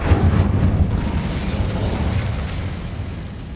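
A fiery Incendio spell blast in the Hogwarts Legacy video game, heard as a loud low rumbling burst that rolls on for a few seconds and slowly fades.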